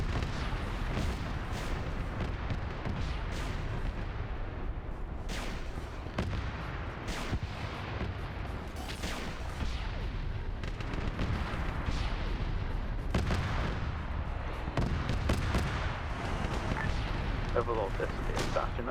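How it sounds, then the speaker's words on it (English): Continuous rumbling explosions and artillery-like booms as destroyed territory blows up in a Warhammer 40K video game, dense and loud throughout with sharper blasts breaking through. "They blow up the territory when they get destroyed"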